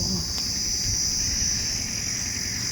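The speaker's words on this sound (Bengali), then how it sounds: "ঝিঝি পোকার ডাক" Dense, continuous cricket chirping beside a roadside hotel, a steady high trill filling the background at moderate loudness with no breaks.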